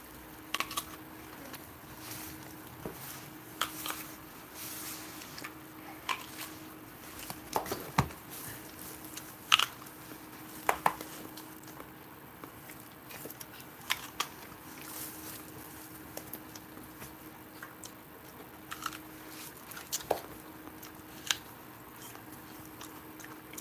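Dogs crunching and chewing organic apples from Walmart, a steady run of small irregular bites and clicks up close, with a low steady hum beneath and no talking.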